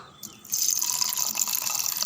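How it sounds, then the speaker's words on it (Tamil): Water splashes and pours steadily into a container after a brief quiet start, a continuous bright rushing stream that stays fairly loud. "இப்போ தண்ணி ஊற்றிக்கலாம்"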